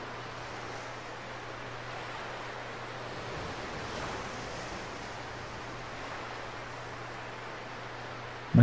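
Ocean surf from the video game ICO washes in as a steady, soft roar of waves, even and continuous, with no voices.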